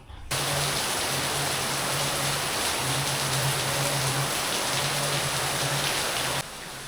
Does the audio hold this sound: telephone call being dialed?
no